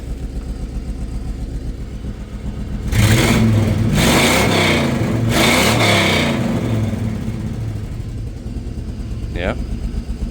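A loud Chevrolet C10 truck engine with a cheap new exhaust revs hard for a few seconds in repeated bursts, then settles back to a rumbling idle, close by.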